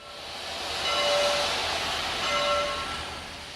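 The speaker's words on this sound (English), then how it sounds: "Backing out of the roundhouse in preparation for another fan trip is the other star of the Burlington Steam program, Mikado number 4960" Burlington Route Mikado steam locomotive No. 4960 backs out of a roundhouse, giving a steady, loud rush of steam hiss that swells and eases over a few seconds, with no voices.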